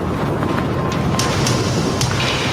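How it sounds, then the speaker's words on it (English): Strong wind gusting up to 60 miles an hour roars loud and steady throughout, with no voices heard. "Winds are gusting to 60 miles an hour."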